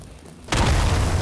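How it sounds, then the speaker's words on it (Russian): An explosion in the sandbox video game Garry's Mod, set during a burning-house survival challenge: a sudden loud, broadband boom that cuts in after a short quiet stretch and keeps roaring for the rest of the clip. "Ого, я отлетел от взрыва."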